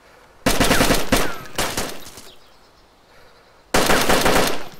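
Loud bursts of automatic gunfire in the survival shooter DayZ Standalone, two rapid volleys close together, a quieter gap, then another sustained burst near the end, with no talk over them.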